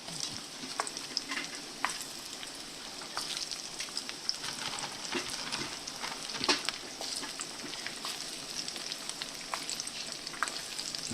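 Batter-coated pork chops fry in hot oil in a pan, a continuous crackling sizzle with scattered sharp pops running steadily throughout, close and fairly loud with no talking.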